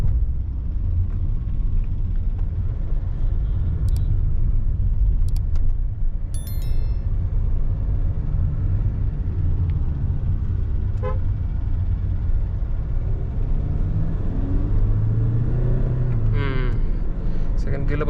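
Hyundai Creta SX 2020 1.5L diesel driving in second gear, a steady low engine and road rumble throughout with brief horn toots from traffic and a rising engine note near the end.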